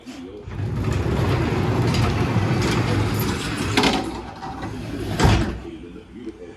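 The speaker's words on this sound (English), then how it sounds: "I'll close this door." A sliding door on its track is pulled shut in a barn, rumbling and rolling for several seconds with a couple of louder knocks near the end, close and fairly loud over a low background drone.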